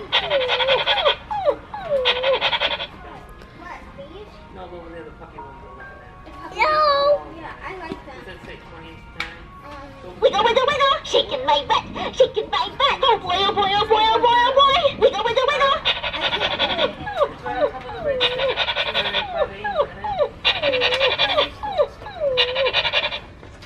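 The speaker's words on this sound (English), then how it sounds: "Dog." Dog vocalizing in bursts, whimpering and yelping at close range, with bursts of brighter barks and whines through the middle, as people talk excitedly over it inside a toy store.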